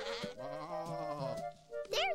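Sheep bleating in a wavering, drawn-out call lasting over a second, followed by a second shorter bleat near the end, fairly close and clear in an animated farm scene.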